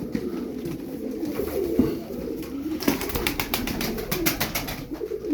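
Turkish tumbler pigeons, show birds of the perdahlı type, coo in soft repeated low phrases, layered from several birds close by, with faint rustling in the background and no talk.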